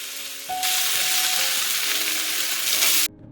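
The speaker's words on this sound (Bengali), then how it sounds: "এবার কড়াইতে তেল দিয়ে জিরে ফোড়ন দিয়ে এই মশলাটাকে দিয়ে দিলাম, একটু নাড়াচাড়া করবো এবার ব্যাস।" Cumin seeds and spice masala hit hot oil in a wok and burst into a loud, close sizzle that holds steady for a few seconds before cutting off abruptly, with no talk.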